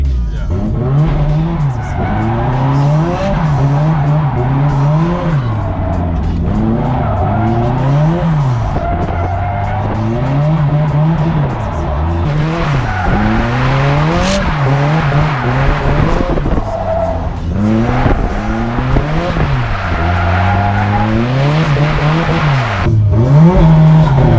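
A car engine revs up and down in cycles while tires squeal and skid continuously, loud and close, as if sliding through repeated drifts.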